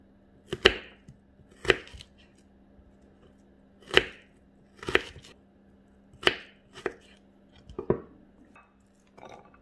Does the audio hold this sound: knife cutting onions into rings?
yes